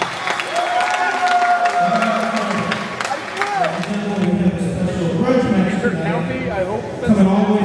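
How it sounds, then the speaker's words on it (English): A pro wrestling show crowd applauds and cheers, a dense wash of clapping and crowd noise that continues under an announcer talking over a microphone throughout. "give yourselves a round of applause for coming out here tonight"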